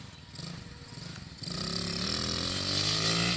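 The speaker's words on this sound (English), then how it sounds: "Ricky got his first dirt bike." A small pit bike dirt bike starts up and rides off: after a quieter, uneven stretch, a buzzy single-cylinder engine note rises and holds steady, loud and close, its pitch climbing slightly as it pulls away.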